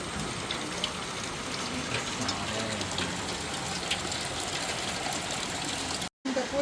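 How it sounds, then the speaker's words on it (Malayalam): Heavy evening rain in a hill village pours down as a steady, dense, loud hiss that stays constant throughout, with a brief break near the end. "സമയം വൈകുന്നേരം 5:30 നല്ല മഴ."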